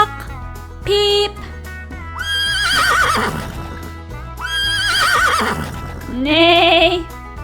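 A horse neighs loudly in several whinnies alongside other farm animal calls, with clip-clop hooves in a storybook reading about farm animals riding a little blue truck.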